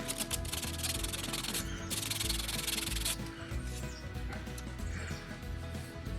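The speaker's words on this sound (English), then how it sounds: "So we'll go over it with some a little bit finer sandpaper." Finer sandpaper rubs over an RC car body, a Tamiya Blitzer Beetle shell, in brisk continuous back-and-forth strokes that are close and moderately quiet, with no voices.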